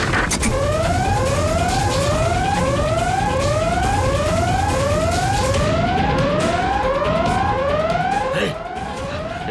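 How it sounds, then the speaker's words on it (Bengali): A loud siren wails in repeated rising sweeps, steady and close for most of the stretch before easing slightly at the end, over a rumbling background in a Bengali TV drama scene. "সাইরেনটাকে বাজালো"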